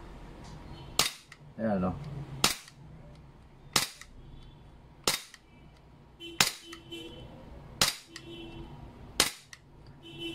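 Sharp shots from an Umarex Glock 17 steel airsoft gas blowback pistol fired at a box, seven evenly spaced loud cracks with slide snaps, a brief voice between them.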